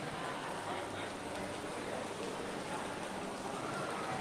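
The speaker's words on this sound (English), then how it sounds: "there's a lot of spaces for the rain to come in over here." Steady rain falling around a partly open stage at Universal, a soft, continuous hiss of drops with no clear pauses, faint and fairly distant.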